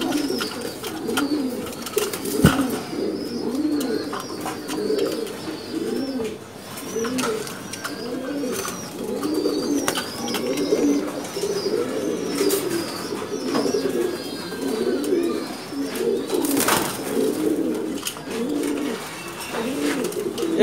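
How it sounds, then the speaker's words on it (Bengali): Many pigeons in a breeding loft coo continuously, their rolling, overlapping calls repeating close by with no speech. "খুব সুন্দর সুন্দর কবুতর,"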